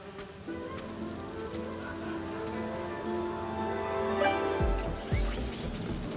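Steady insect buzzing of bees inside the Marvel's Spider-Man 2 game world, a continuous droning hum at moderate level that swells slightly before a sudden louder rumble near the end.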